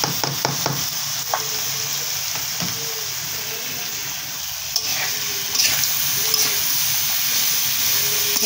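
Bitter gourd frying in hot oil in a wok, with green chilies added: a steady close sizzle and hiss with occasional clicks and scrapes of stirring. No one speaks.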